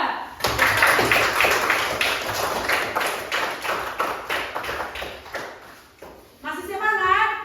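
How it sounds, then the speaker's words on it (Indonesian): Applause from a classroom of students for a group that has just presented, a dense burst of clapping that carries on steadily for several seconds before thinning out, with a brief sung or called-out phrase at the end. "Tepuk tangan dulu untuk kelompok 2"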